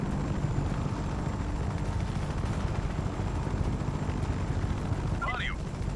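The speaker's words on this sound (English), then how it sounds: "Got a good helicopter." A helicopter in the video game Just Cause 3 drones with a dense, continuous rotor roar, loud and steady throughout, with a brief chirping sound near the end.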